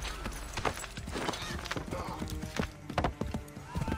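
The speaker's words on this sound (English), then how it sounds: "Get on that horse." Horse hooves clip-clop in quick irregular strikes with a neigh in the video game Assassin's Creed III: The Tyranny of King Washington, close and moderately loud over background game ambience and occasional voices.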